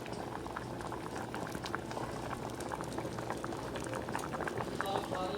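Gram lentils and green squash (lauki) boiling in a pot set on medium-low heat, a continuous soft bubbling and popping with faint talk underneath.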